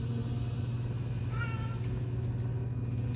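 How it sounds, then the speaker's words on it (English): A cat lets out a single short meow midway, heard over a loud steady low hum of background noise, with no talking. "He's just gonna sit there and meow the whole time"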